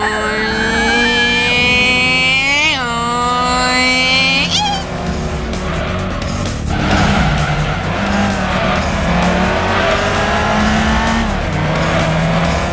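A retro video game racing car roars with loud, wavering engine tones that rise and fall as it accelerates, with tyre squeals and skids mixed in throughout.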